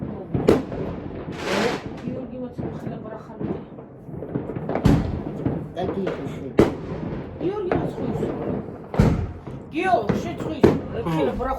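Fireworks and firecrackers go off outside on New Year's night, with repeated sharp bangs and booming blasts scattered throughout, under ongoing talk from people nearby.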